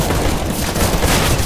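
Dense, continuous gunfire from Counter-Strike, a steady barrage of overlapping shots and booms that fills the whole moment at loud, close range, with no talk over it.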